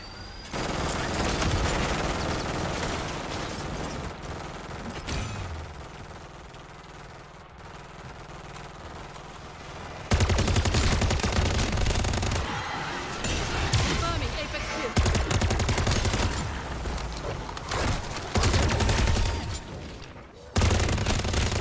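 Turret machine gun fire against a horde of zombies in the Modern Warfare Zombies video game, rapid bursts of loud gunfire and booms running through the whole stretch, with game sounds and effects layered underneath.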